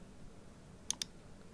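Two quick, crisp mouse clicks on an OK button in Windows 11, close and faint over a quiet background with no talking.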